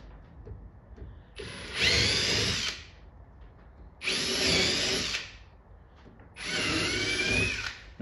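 Rivets being set on the speaker grill of a Pole Position arcade cabinet with a power tool, three long whirring bursts of two seconds or so each, separated by short pauses, close and loud.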